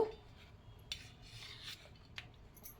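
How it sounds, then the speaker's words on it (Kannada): A knife scrapes and saws along the brown crust edges of bread slices for a pakoda snack, giving a few soft, close rasping strokes with light clinks of cutlery, no voices. "ಈ ಬ್ರೌನ್ ಕಲರ್ಡ್ ಲೇಯರ್ಡ್ ಏನಿದೆ ಸೈಡ್ದು, ಅದನ್ನು ಚೆನ್ನಾಗಿ ಕಟ್ ಮಾಡ್ಕೊಬೇಕು"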